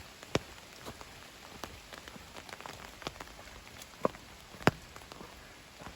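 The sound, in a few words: rain falling on a forest trail while hiking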